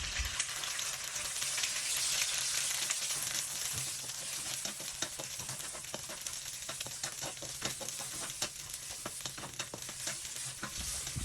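Two beaten eggs scramble in hot oil in a pan, a dense, even sizzle broken by quick spatula scrapes and taps that grow more frequent as the stirring goes on.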